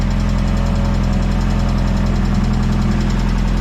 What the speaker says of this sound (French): le moteur, c'est les injecteurs qui claquent un peu